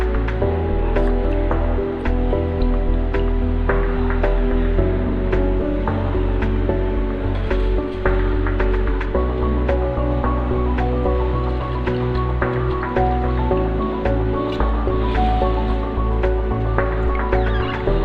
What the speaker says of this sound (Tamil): இப்போ நான் ஊற வச்சிருந்த அரிசியை வாட்டர் எல்லாம் ட்ரெயின் பண்ணிவிட்டு